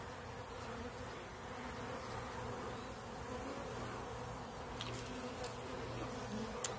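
A swarm of honey bees gives off a faint, continuous low buzzing drone that holds steady throughout, with a few light ticks near the end and no voices.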